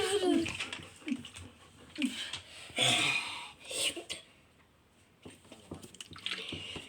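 A dog laps water indoors at a friend's house, wet slurping and dripping sounds coming in uneven bursts close to the microphone, with brief murmured voices in between.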